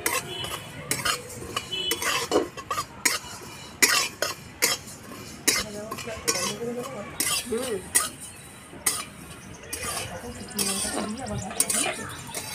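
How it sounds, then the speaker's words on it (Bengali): Coriander, fenugreek, cumin and fennel seeds dry-roasting together in a pan, with a spoon scraping and clinking against the metal in irregular bursts, plus occasional soft thuds and a faint background voice. "ওই খোলাতেই ধনে, মেথি, জিরে আর মৌরি একসঙ্গে ভেজে নেব"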